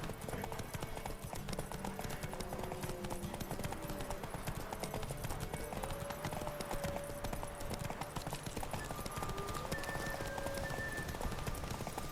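Horse hooves clip-clopping steadily at a gallop in The Witcher 3, a continuous rhythmic patter close up, with an occasional neigh, over game ambience and tonal music.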